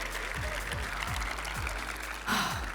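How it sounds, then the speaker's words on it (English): Applause from an audience at a MagicCon Chicago 2025 cosplay contest, a steady wash of clapping with a few low thumps and a brief swell near the end. "Let's have one more huge round of applause for Marxie as Queen Marquesa"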